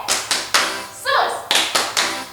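Children clap their hands in a rhythmic chant during an online kids' worship service: sharp, close claps in a regular pattern, broken by a short sung or spoken voice in the middle.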